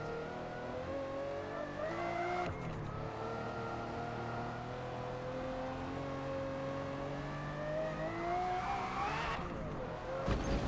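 A race car in Forza Motorsport roars steadily with rising engine pitch and a brief shift break, loud and continuous throughout, with no voices over it.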